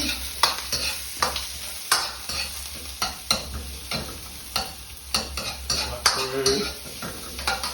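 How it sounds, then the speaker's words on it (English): Vegetables sizzle in a hot wok while a utensil scrapes and tosses them in quick, irregular strokes, the frying hiss steady underneath and the metal clinks close and sharp. "But once this is sizzling"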